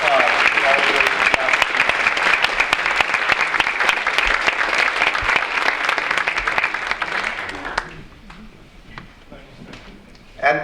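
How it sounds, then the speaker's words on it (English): Audience applause at a Veterans Day ceremony, a dense sustained round of clapping from a sizable crowd that fades out after about eight seconds, with a brief sound at the very end. "Once again, a round of applause for all of those"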